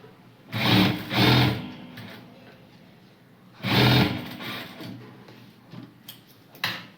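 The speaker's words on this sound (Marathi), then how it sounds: "किनारीच्या आतमध्ये घालायचं आणि शिलाई मारून घ्यायची" Sewing machine stitching a baby frock, running in short bursts of rapid mechanical whirring separated by pauses with small clicks and handling noises, close by.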